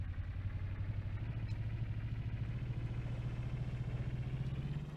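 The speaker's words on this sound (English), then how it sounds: "I'm actually gonna go ahead and bump up the engine a bit." A steady, low-pitched vehicle engine drone from a player-built car in the video game Scrap Mechanic, held at an even revving hum throughout, fairly quiet, with no voices.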